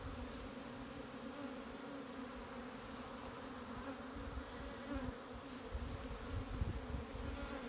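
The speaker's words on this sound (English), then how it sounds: "They're nice looking bees" Soft, continuous buzzing of many honey bees around a hive, a low droning hum that swells slightly near the end.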